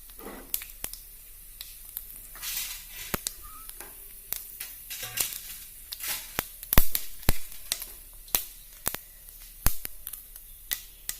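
A teaspoon of mustard seeds spluttering in hot oil while tempering for a raw banana thoran: scattered sharp pops and crackles over a faint sizzle, close and fairly quiet, with no talking.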